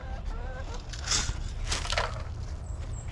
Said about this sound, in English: My chickens are going to be so loud trying to do this video.